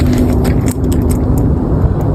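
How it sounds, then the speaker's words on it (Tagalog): A car in a dark garden area, its low steady engine rumble loud and close throughout, with no voices. "nagulat ako sa kotse"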